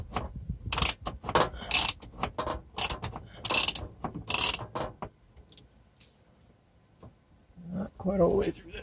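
A 1/2 inch die cutting threads for a vent modification, a run of sharp rhythmic ratcheting clicks and scrapes close by that stops halfway, followed by quiet and a voice speaking near the end.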